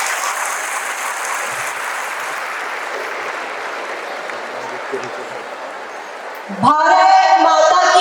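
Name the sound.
audience applause welcoming a speaker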